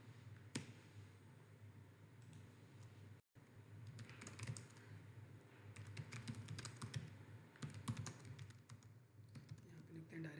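Someone types a search into Google on a computer keyboard, producing quiet clusters of close key clicks in irregular bursts over a faint background hum, with a brief dropout early on.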